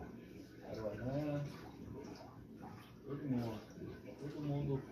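A dog whimpers in several drawn-out, wavering whines while feeding on beef heart outdoors near water, with soft splashing and a voice talking around it.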